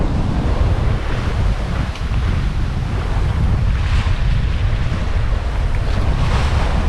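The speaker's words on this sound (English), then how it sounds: "as I'm approaching the coastline here, the waves got bigger" Strong wind and breaking waves rush past a sailboat approaching the Swedish coastline, with a steady, loud, unbroken roar and a hiss of spray close to the microphone.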